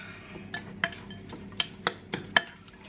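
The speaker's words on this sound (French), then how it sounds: "On remélange le tout." A spoon stirs a tuna gratin mixture, a flan-like bake, in a dish, giving a series of sharp clinks and scrapes about every quarter second against a quiet background.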